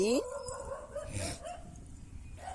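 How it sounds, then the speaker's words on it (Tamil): A dog gives a short, high yelping bark near the start, followed by a few fainter whimpers under people talking nearby. "இங்கே நம்ம நாய் குலைக்குது"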